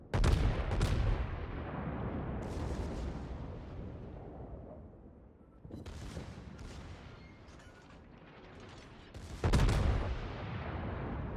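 Battleship guns boom in World of Warships, naval combat with an Iowa and a Friedrich der Große, as three heavy salvos crack loudly, each followed by a long rumbling decay.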